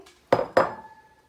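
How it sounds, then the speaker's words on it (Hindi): Chicken pieces dropped into a large cooking pot for marinating, giving two sharp clattering knocks against the pot close by, followed by a faint ringing tail. "मैं इस बड़े बर्तन में लेती हूँ, इसके अंदर मैं अपना सारा चिकन ऐड करती हूँ"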